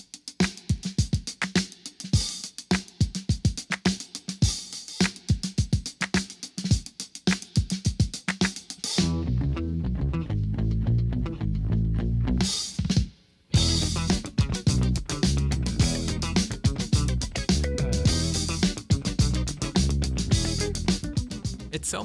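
A song plays loud and steady: funk band with a drummer playing a simple groove with a super short, punchy kick drum, dense full mix, briefly cutting out near the middle before resuming.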